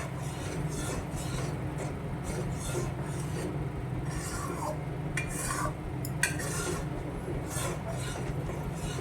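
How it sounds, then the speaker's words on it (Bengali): Masala for chhanar dalna being stirred and sautéed in a pan over low to medium heat, a steady soft scraping and sizzling texture running throughout with a few brief clinks near the end. "আবারও কষিয়ে নেব লো টু মিডিয়ামে সবসময় মশলাটা কষানোর চেষ্টা করবেন"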